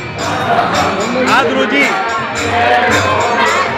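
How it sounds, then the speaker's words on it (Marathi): Dense, loud hubbub of a large crowd of devotees at the Ghota Devi temple during the Navratri festival, many voices overlapping close by with constant chatter and shouting. "आपण पाहत आहात की इथे भरपूर गर्दी झालेली आहे"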